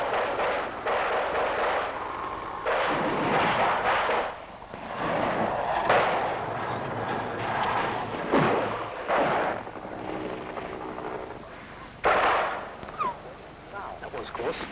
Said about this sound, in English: still receiving sporadic small arms fire